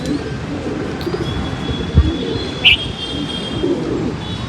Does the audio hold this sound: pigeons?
yes